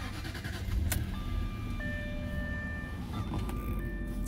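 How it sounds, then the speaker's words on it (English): A 2007 Jaguar XJ8 L's sunroof motor opens the roof, a steady electric whine with shifting tones that runs under the low idle rumble of the car, close and moderately loud. "Sunroof works."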